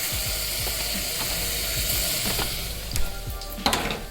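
Mint and curry leaves sizzle and crackle in hot oil in a pan for tender jackfruit biryani, a loud dense frying hiss with sharp pops and spatters throughout, no voices.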